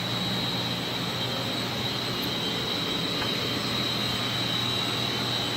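Computerized variable speed pumps hum steadily in a boiler room alongside heat pumps and snow melt equipment, giving a continuous close mechanical drone with a fixed tonal whine and no talk over it.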